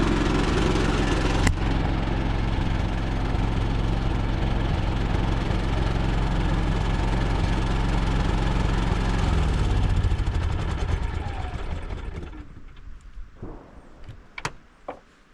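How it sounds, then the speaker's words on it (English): A generator runs loud and steady at an off-grid cabin, a continuous low engine drone that holds for about twelve seconds before cutting off, leaving a few faint clicks and knocks in the near-quiet that follows. "This generator's a great generator."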